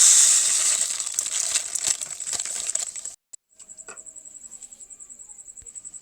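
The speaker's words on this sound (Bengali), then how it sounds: "এবার বন্ধুরা আমি চিনি ঢেলে দেব" Sugar pours into a pan for semolina payesh (sujir payesh) in a Kolkata home kitchen, first as a loud, dense granular hiss for about three seconds, then after a short gap a fainter, steady, rhythmic sizzling hiss continues alone.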